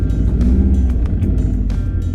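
A Subaru WRX's deep, throaty aftermarket thrush tube exhaust rumble heard from inside the cabin, steady and fairly loud with a low droning tone.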